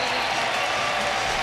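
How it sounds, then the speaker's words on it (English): Arena crowd at a Target Center basketball game roaring in a sustained ovation, a dense wall of cheering and applause at steady loudness throughout with no distinct voices. "Huge ovation from this Target Center crowd"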